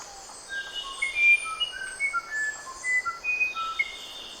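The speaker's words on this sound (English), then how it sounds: "Musician wrens also sound great." A musician wren sings a series of clear, pure flute-like whistled notes at varying pitches, spaced in an irregular melodic sequence against a quiet background with faint insect hum.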